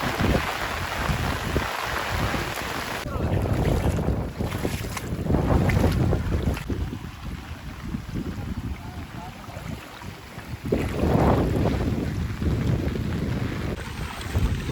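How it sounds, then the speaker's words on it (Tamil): Strong gusts sweep across flooded Madduvil village in Jaffna, buffeting the microphone with loud roaring surges that swell and ease over the stretch, with no talking. "நல்ல காற்று"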